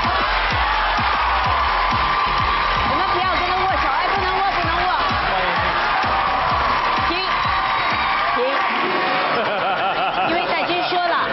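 A studio audience claps and cheers to welcome Wu Jing, a loud, dense wall of clapping with whoops and crowd noise, and voices over the top.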